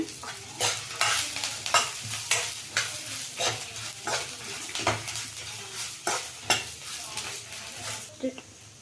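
Garlic, cinnamon, cloves and chilli frying in a pan for a fish curry, a soft sizzle broken by frequent scraping and clinking of a spatula stirring against metal, with no voices.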